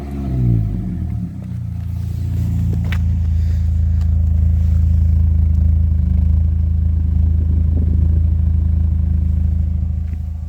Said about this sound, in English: let's start it up, and so you guys can hear what it sounds like with the Toyo exhaust